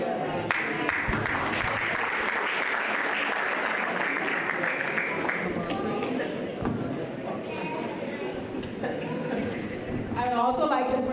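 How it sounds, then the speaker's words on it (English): An audience at a Southern College ceremony gives a sustained round of applause for the Master of Ceremonies, dense clapping filling the room steadily, with a few voices and cheers rising near the end. "give y'all Master of Ceremonies a round of applause"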